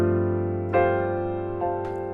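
A sustained piano chord on the fifth rings steadily, with a couple of fresh notes struck softly over it, and no voices.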